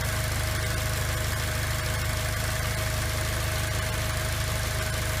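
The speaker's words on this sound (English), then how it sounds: "1992 Honda Civic Bubbleback with the 2004 Acura RSX Type S 6-speed manual transmission." A 1992 Honda Civic hatchback with a swapped K20A2 engine and 6-speed manual idles with a constant, even hum at moderate level, heard alone without any talking.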